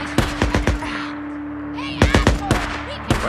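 Gunfire in the video game Days Gone, sharp close shots in quick bursts of three or four, a pause, then more rapid volleys, with a voice speaking briefly between them.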